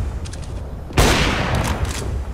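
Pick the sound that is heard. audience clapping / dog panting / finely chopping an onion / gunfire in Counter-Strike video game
gunfire in Counter-Strike video game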